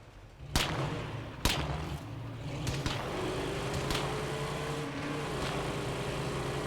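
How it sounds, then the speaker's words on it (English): A vehicle engine drones in State of Decay 2, a low steady rumble under several sharp cracking bangs early on, followed by a thin rising whine as it runs on. "Listen to the engine."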